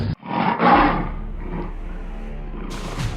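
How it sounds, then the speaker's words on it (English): A lion roar sound effect from a children's story, loud and close, a single deep sustained roar that swells and then trails off. "Leo roared, a sound of triumph and relief that shook the very ground beneath their feet"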